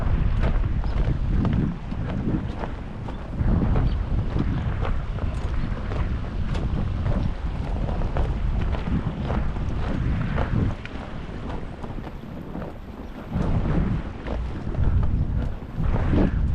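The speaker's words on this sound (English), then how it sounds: "That wind's got a bit of a bite to it." Cold early-winter wind gusting across a snowy creek trail at Umtanum Creek, a loud continuous roar and buffeting against the microphone that swells and eases in waves throughout, with no voices.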